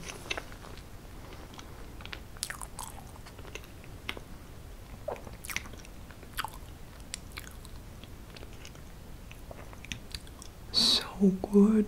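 Chocolate mousse cake with vanilla and cocoa mousse eaten up close in a mukbang, soft wet chewing and small smacking sounds scattered throughout, quiet and intimate, with a few louder bursts near the end.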